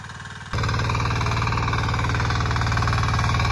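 A vehicle engine idling near the microphone, a steady low rhythmic chug that jumps abruptly louder about half a second in and then holds an even, throbbing pulse with no voices.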